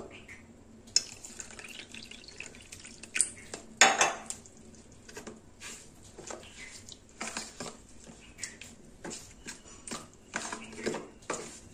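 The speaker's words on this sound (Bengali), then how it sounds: "এবার আমি এর মধ্যে দেব জল" Water is poured into a bowl of sour yogurt and semolina and stirred in, with a spoon scraping and clinking against the dish in irregular bursts and a soft liquid trickle between them.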